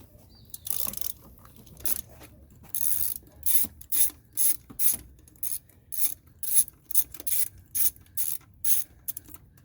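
Ratchet loosening a fuel rail bolt on a Jeep XJ 4.0 engine, close and crisp, with a few slower clicks that settle into a steady run of rhythmic ratcheting strokes.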